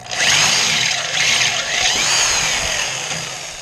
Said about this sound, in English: Don't you love these step drills?